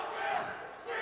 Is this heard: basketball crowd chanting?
yes